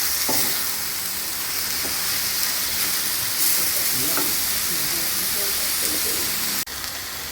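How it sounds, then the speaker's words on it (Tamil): Onion, tomato and ginger garlic paste sautéing in a pan for prawn thokku, a close, constant sizzling hiss with occasional spoon stirs and scrapes and a brief knock near the end. "இப்போ வெங்காயம் தக்காளி எல்லாம் இஞ்சி பூண்டு பேஸ்ட்டு நல்லா வதங்கிடுச்சு"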